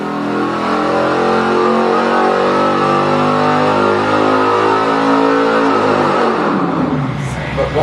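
A car engine mounted on a dyno for a muffler test revs hard and steadily, a loud, close, sustained roar that climbs in pitch and holds near full throttle throughout.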